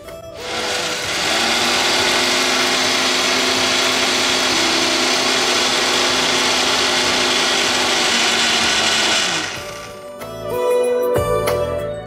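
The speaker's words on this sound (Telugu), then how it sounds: "ఇందులో లైట్గా వాటర్ వేసేసుకొని మిక్సీ పట్టేసుకుందాం." A kitchen mixer grinder runs steadily for about nine seconds, grinding dosa batter with salt and a little water; the loud, continuous motor whir stops abruptly, followed by brief clattering.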